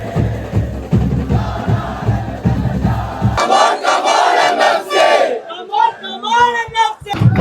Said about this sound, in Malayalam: ഇവിടെ ആകെ ആരവാട്ടോ